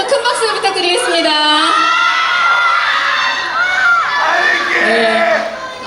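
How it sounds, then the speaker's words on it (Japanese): A large audience at a Demon Slayer fan event cheers and screams loudly and continuously, with high excited shouts and whoops layered throughout. "もうものすごい歓声ですよ。"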